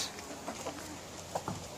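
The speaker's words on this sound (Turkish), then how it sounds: "Tavuklarımız hala gurk oluyor" A broody yellow hen in a backyard flock gives a few soft, scattered clucks, faint and close, with quiet pauses in between.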